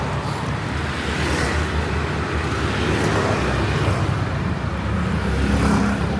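Steady road traffic on a busy roadside in Bali with no footpath, cars and motorbikes rumbling past continuously at close range, a dense unbroken wash of engine and tyre noise.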